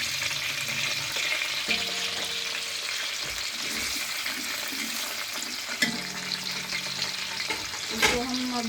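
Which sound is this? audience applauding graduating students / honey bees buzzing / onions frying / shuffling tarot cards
onions frying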